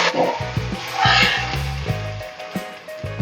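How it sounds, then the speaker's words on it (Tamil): Ground tomato paste poured into a pot for drumstick-stem rasam, with a soft sizzle and splashing pour punctuated by a few dull knocks of a utensil against the pot, close and moderately loud. "இப்போ அரைச்ச தக்காளியை ஊற்றிக்கிடுவோம்"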